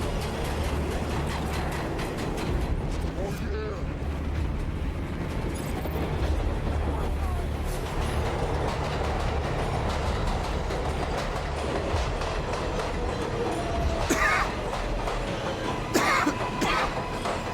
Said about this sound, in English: We hop on the 7 train.